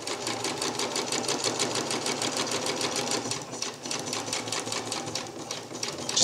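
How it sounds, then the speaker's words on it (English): A sewing machine stitches across quilt fabric in a fast, steady mechanical rattle, close and moderately quiet, for a DIY bridge underquilt, running continuously with a slight slowdown midway. "Just sew right over it."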